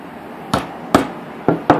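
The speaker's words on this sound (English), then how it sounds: "Again, just a light tap will do the trick. You're not trying to actually puncture the tin at this point." Four light, sharp hammer taps strike a finishing nail to dimple a metal mint tin, unevenly spaced and close, each a brief metallic knock in a quiet room.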